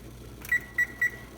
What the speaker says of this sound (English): Then I'm going to set a timer here